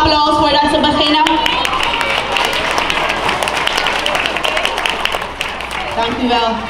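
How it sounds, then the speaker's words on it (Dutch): A school farewell audience claps, a dense steady patter of many hands, loud and close, with crowd murmur and voices talking over it. "Mag ik nog een applaus voordat ze beginnen?"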